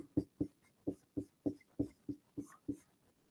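Chalk or a marker taps and strokes on a board while math is written out, a series of about ten sharp, evenly spaced knocks, close and clear, with no talking.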